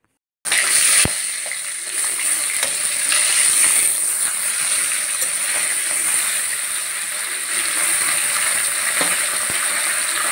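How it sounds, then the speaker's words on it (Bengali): Pieces of fish fry in hot oil in a pan, giving a steady loud sizzle that runs unbroken with a few faint pops and stirs, and no talk. "এই যে দেখতে পাচ্ছ কিছু মাছ ভাজছি"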